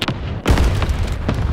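Bombs exploding in a war video game, a short sharp crack followed by a deep rumbling boom that hangs over a noisy battlefield background.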